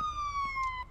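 A loud wailing ambulance siren in a police patrol simulator video game sweeps steadily in pitch, close and continuous, with a couple of faint thuds behind it.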